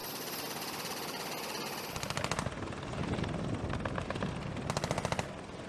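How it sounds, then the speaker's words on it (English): An AH-64 Apache military helicopter fires ordnance, its rapid machine-gun bursts rattling over a constant loud rotor and engine roar, with two distinct volleys in a dense, noisy mix. "the formidable AH-64 Apache helicopter holds a prominent place in military history"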